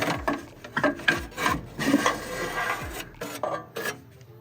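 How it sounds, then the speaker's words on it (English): A stock exhaust manifold being worked off its studs on a BMW S85 V10 engine, giving repeated close scraping and rubbing metal clunks in irregular bursts with no talking. "Now we're ready to remove the manifold. As you can see, it's already coming off the studs."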